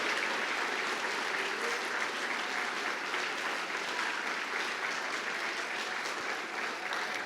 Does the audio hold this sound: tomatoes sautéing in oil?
no